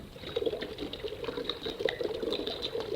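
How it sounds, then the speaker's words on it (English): Acetone and methanol being mixed together at home to make nail polish remover, a continuous sloshing, trickling liquid sound with faint splashes, moderately close and steady throughout. "So all you need to do now is you mix them together."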